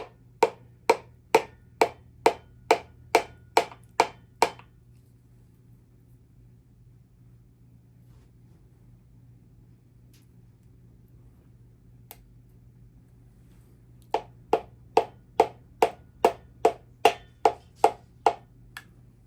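Piston being tapped into the cylinder through a ring compressor on a 2020 BadBoy Kawasaki FR730V engine, two runs of about ten evenly spaced sharp taps separated by a quiet pause, close and crisp.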